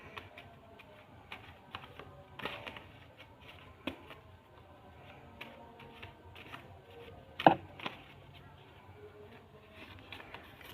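Tarot cards shuffled by hand, heard as faint, scattered soft clicks and taps with one sharper snap partway through, quiet and close, with no talking.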